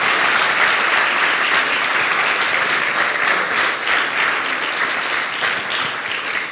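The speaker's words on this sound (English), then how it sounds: "I need a good clapping here" Loud, sustained applause from a large conference audience at the closing remarks of a gaming event at Marina Bay Sands, Singapore, continuous and even throughout.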